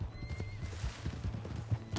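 Horse in the Red Dead Redemption 2 video game, rhythmic clip-clop of galloping hooves with a neigh, close and fairly loud against a rumbling background.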